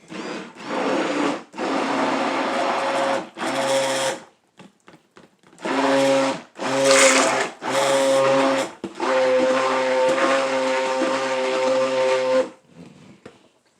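Stick blender whirring through tea and cucumber soap batter in repeated loud bursts of a few seconds each, separated by brief pauses and small knocks.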